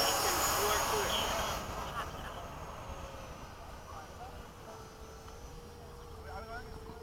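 A radio-controlled model Hawk jet takes off at an outdoor flying field, with a loud whooshing engine roar at first that fades into a steadier, quieter drone. People talk nearby.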